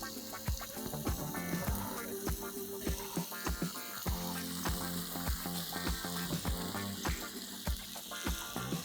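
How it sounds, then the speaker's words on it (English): Red snapper fish pan-frying in hot oil on a gas stove, a steady close sizzle with dense popping and crackling spatter throughout, no talk. "As the oil starts getting hot, I'm going to start placing the fish on the pan."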